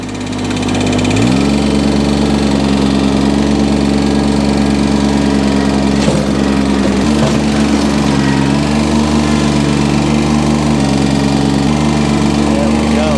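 A four-wheeler ATV shifted into four-wheel drive low range runs with a loud, steady engine drone close by, its pitch stepping down and shifting a few times as it works.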